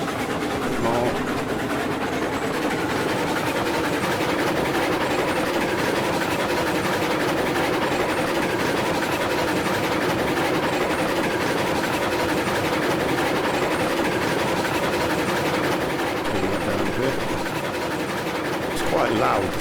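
Model train running on a home track layout, a loud continuous mechanical rumble and whir that holds steady throughout, close and dominant, with a voice faintly underneath.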